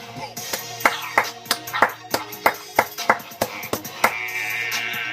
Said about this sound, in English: You know what that means when I applaud?